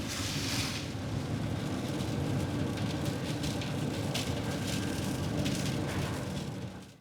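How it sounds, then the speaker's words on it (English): Steady, dense hiss of rain falling continuously at a campsite, close and fairly loud, with no voices. "And down came the rain."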